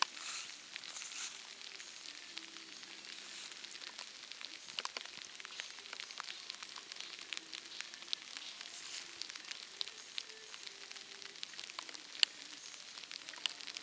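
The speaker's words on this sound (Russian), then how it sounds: "Дождик пошел." Soft, steady patter of rain with scattered small drops ticking nearby, quiet and continuous, with no voices.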